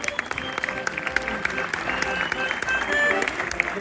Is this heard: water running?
no